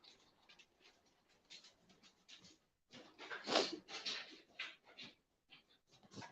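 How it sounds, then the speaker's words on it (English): Quick, rhythmic panting of a dog close by, bursts of breathy huffs with a brief pause midway. "I'm just letting my dog out."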